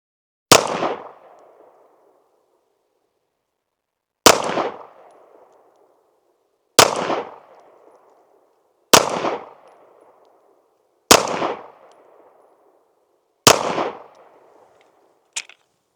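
An Archon Type B Gen 2 pistol fires six rounds of Arms Corps 124 grain ammunition at a range, each shot a loud, sharp crack with a short decaying tail, spaced roughly two seconds apart, with a faint brief click at the end.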